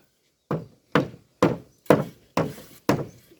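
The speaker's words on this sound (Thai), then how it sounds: "ตอกเล็กตะปูลงบ่" Six evenly spaced hammer blows driving nails into wood while building a hut, each a solid thud with a short ring, about half a second apart, with no talking.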